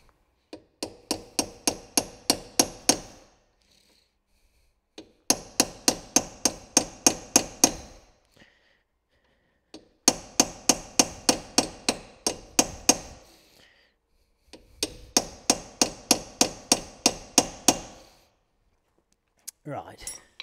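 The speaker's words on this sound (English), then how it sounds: "And we'll just try and peen that over." A hammer peens over a part on the brakes of a Fiat 500, with four close bursts of rapid, evenly spaced metallic blows separated by brief silences.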